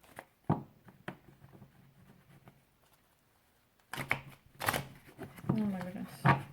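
Tarot cards being shuffled by hand, a few soft riffling flutters and taps, followed by louder card handling mixed with a person speaking nearby.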